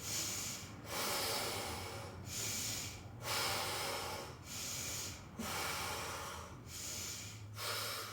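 Forceful, rhythmic power breathing during a Bowspring yoga pose such as supine bow or buoy: long, loud hissing nasal breaths repeat steadily about every second, close to the mic, with no talking.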